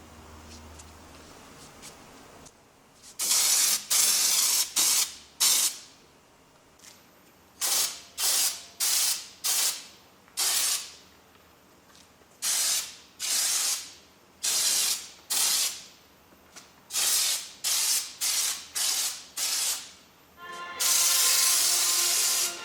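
Loud hissing bursts of a spray gun applying Raptor bed liner inside a 1972 K10 pickup truck bed, repeated in short regular blasts with brief gaps, ending in a longer continuous spray, close up.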